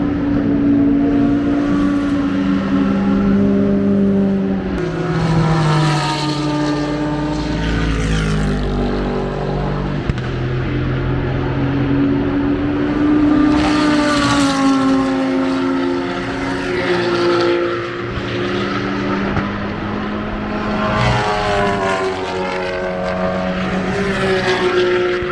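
Race cars at the Spa-Francorchamps circuit in Belgium, a loud continuous engine roar with rising and falling pitch as several cars pass, steady throughout with no talk.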